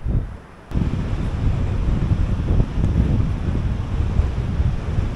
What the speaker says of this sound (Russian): Ветер гонит волну